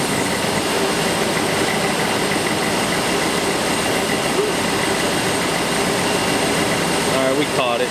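A Ford engine with EEC-IV ignition and a misfire runs with its RPM held up, giving a steady, loud, continuous drone with a roaring, noisy texture.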